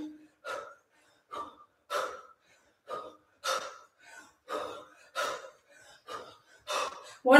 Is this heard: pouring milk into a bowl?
no